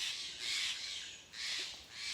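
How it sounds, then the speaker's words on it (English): Crows caw harshly in repeated loud bursts close by, two long squawking calls separated by a brief lull, with no voices. "these birds are mad at me for invading their space"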